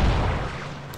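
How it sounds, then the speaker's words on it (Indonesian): A bomb goes off in Twisted Metal 4, a single loud, deep boom that decays with a rumbling tail over about a second. "Saya kasih bom di bawah situ."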